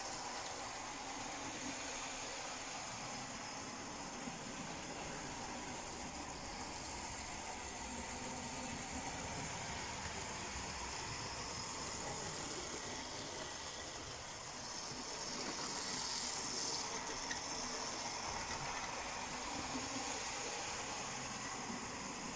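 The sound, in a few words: model railway locomotive running on track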